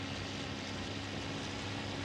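A WWII aircraft engine in the IL-2 video game throttles up for takeoff, a steady, dense propeller drone with a low harmonic hum holding loud and unbroken throughout.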